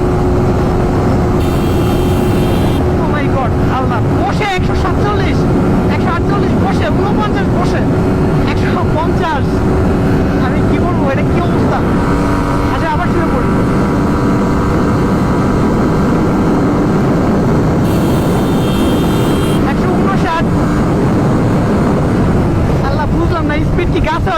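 Suzuki GSX-R motorcycle engine pulling hard under acceleration while ridden seated, a loud continuous roar with shifting pitch and heavy wind buffeting throughout, and someone talking over it.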